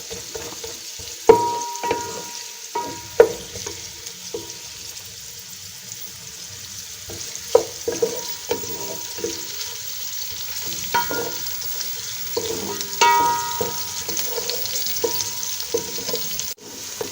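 Onions frying toward golden in a pan sizzle softly while a spoon scrapes and clinks against the metal in repeated irregular stirring strokes, close by and without talk.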